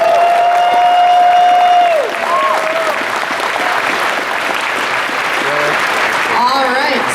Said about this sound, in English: So give a round of applause for them.